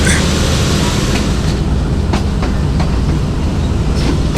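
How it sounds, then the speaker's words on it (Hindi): Sir Syed Express train pulling away from Wazirabad Junction, a loud steady rumble of rail wagons with rhythmic clickety-clack of wheels over track joints, heard from on board with no talking. "तो अभी डिपार्ट होने लगी है ट्रेन हमारी वज़ीराबाद जंक्शन से।"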